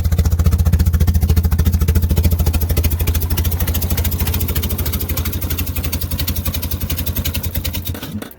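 A 1996 Saturn SL1 engine idles roughly nearby with a loud, uneven chugging clatter, a tractor-like knock pulsing steadily throughout, no voices.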